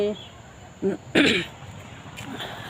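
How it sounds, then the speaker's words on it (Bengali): A person with a cold gives a short throat-clearing cough, two brief rough bursts close to the microphone, with faint speech before and after. "সর্দিটা কমেনি জ্বরটা কমে গেছে কাশিটা অল্প আছে"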